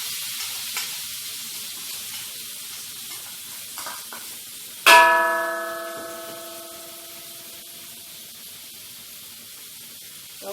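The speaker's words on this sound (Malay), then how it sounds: "tumis lagi selama 5 minit" Food sautés in a hot pan with a steady hiss, flaring sharply when ground coriander and other spices are added partway through, then settling back to a quieter fry.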